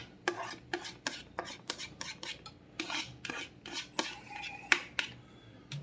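Broccoli being dumped back into a pot of chicken soup, heard as a rapid series of close scraping clinks of a utensil against the pot in an uneven rhythm, with no voices.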